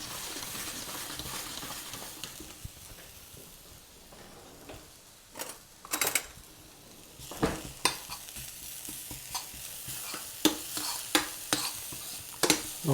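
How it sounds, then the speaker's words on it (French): Shallots sauté in a pan with a soft, steady sizzle, broken by sharp, irregular clicks and scrapes of a utensil stirring against the pan, close and fairly quiet, with no voices. "Donc là, c'est en train d'être bien rissolé."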